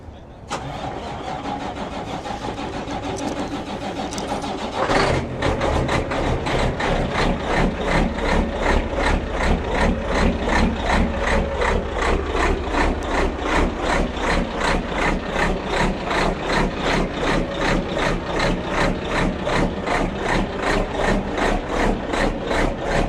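A 1952 Kenworth race truck cranks over for a few seconds, then catches and settles into a loud, steady, lopey idle with a rhythmic pulsing beat, heard up close throughout.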